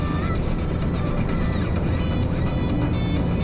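Nissan Sunny pickup truck (Datsun 1200) with sound deadening driving and shifting into third gear; loud steady engine and road drone with whining tones rising and falling as the revs change, heard from inside the cab.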